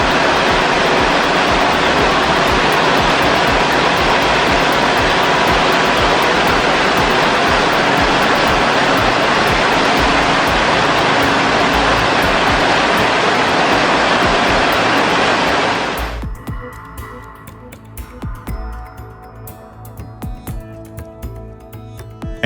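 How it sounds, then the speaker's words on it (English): A heavy, roaring torrent of tons of water pours down onto a car continuously for about fifteen seconds, then cuts off abruptly, leaving dripping and trickling sounds. "what happens if you pour tons of water on a car?"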